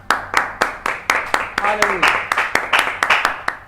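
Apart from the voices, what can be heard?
church congregation clapping applause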